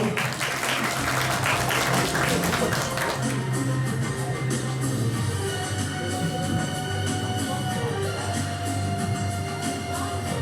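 Loud, dense applause from the audience at a school entrance ceremony as a new student comes up to give a greeting; the clapping fills the first three seconds, then thins out beneath a steady tonal sound.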